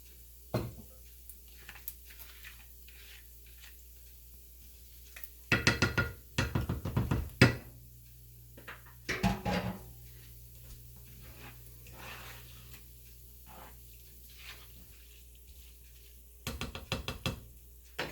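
Drained pasta is stirred in a pot with a utensil, giving scattered scraping and knocking bursts against the metal between quiet stretches, close and fairly soft.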